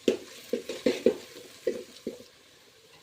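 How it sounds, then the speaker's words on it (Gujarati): A spoon stirs okra with chilli powder, coriander-cumin powder and turmeric in a pan, giving a series of close, distinct scraping and clinking strokes, about six in the first two seconds before it falls quiet. "હવે એને સારી રીતે મિક્સ કરી લઈશું"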